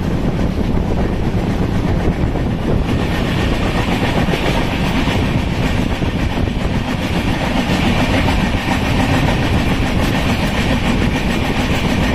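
A goods train hauling coal rolls past at close range, a loud, unbroken rumble of wagons with rhythmic wheel clatter running steadily the whole time, no voices.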